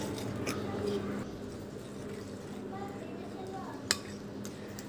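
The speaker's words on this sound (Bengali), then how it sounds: "এবারে সবগুলো উপকরণ খুব ভালোভাবে মিশিয়ে আমি স্পেশাল মশলাটা রেডি করে নিচ্ছি" Spice paste ingredients being mixed with mustard oil in a bowl for a masala fish fry, with steady soft scraping and clinking of a utensil against the dish and a single sharper clink near the end.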